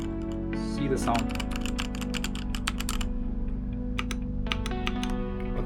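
Typing on an EvoFox Ronin wireless TKL mechanical keyboard: a quick run of sharp, close key clicks with brief pauses, heard over a steady tonal hum.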